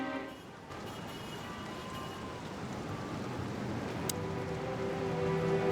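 Steady rain falls in the Chicken Police video game, an even hiss of drops at moderate level with a faint low tone and a brief sharp tick partway through.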